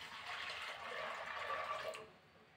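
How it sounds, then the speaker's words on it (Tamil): Water splashes and pours steadily into a pressure cooker for about two seconds, then cuts off, leaving quiet. "3 கப்பு தண்ணி சேர்க்குறேன்."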